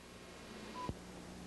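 Telephone dial tones from the phone-dial keypad on a radio station's remote control panel: a short electronic tone then a brief click, faint and close, with no talking.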